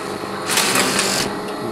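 A flat knitting machine for shoe uppers runs with a dense, fast mechanical whir and rattle, loud and close, swelling briefly as the carriage passes mid-way.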